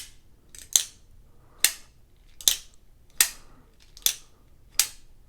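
Spyderco Demko AD20.5 folding knife with goat scales snapping open and closed six times at a steady pace, each a sharp, crisp metallic click close up in a quiet room.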